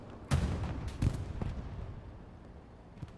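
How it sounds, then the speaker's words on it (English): Battlefield blasts from the World War II shooter Hell Let Loose, a few sharp booming impacts a second or so apart followed by rumbling decay and a last faint thud, mid-distance with no talking. "Because that explosion was too small, that was something else."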